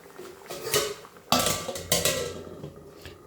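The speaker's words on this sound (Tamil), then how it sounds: "இப்போ மூடி போட்டுக்கலாம்" A lid goes onto a cooking pot of cassava, with two sharp, close metallic clanks and a brief rattle of cookware.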